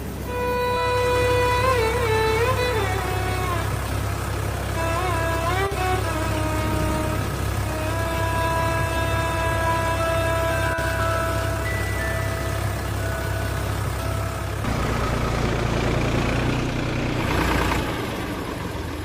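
A tractor engine runs on a farm field after tilling with a rotavator, a loud, steady low rumble with whining harmonic tones that shift in pitch, then changes character near the end as the load varies.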